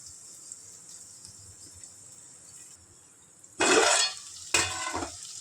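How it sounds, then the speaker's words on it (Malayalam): Capsicum, green chili and garlic stirring and sautéing in a pan: a steady faint hiss at first, then two loud bursts of sizzling and scraping as the vegetables are tossed. "എന്നിട്ട് നന്നായിട്ട് ഇളക്കി കൊടുത്തിട്ട് നന്നായി വഴണ്ട് വരട്ടെ എല്ലാം കൂടെ"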